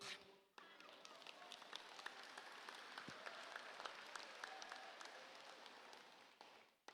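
A crowd claps in sustained, dense applause for several seconds before it stops abruptly.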